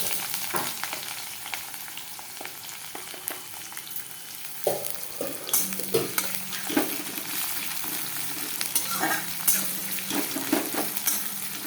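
Chopped onions frying in a pan with dried chilli, a steady close sizzle with intermittent stirring scrapes and light utensil clinks throughout.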